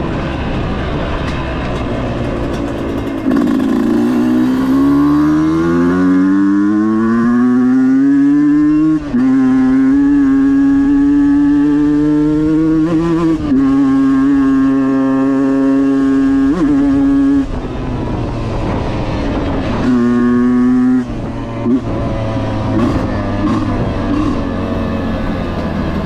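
A dirt bike rips along a trail, its engine revving loud and close with rising and falling pitch through repeated throttle pulls and gear shifts, continuous for the whole stretch.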